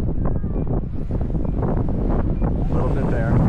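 Strong wind buffets the microphone in a loud, constant roar with low rumbling gusts, some faint talk mixed underneath.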